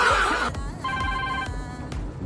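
A telephone rings with a repeated electronic trill, loud and near, starting over a brief musical swell and then pulsing in short bursts with gaps between them.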